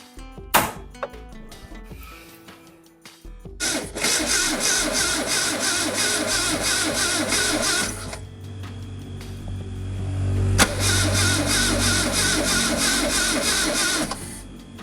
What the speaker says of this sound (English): we tried to start her up, but it didn't want to work with us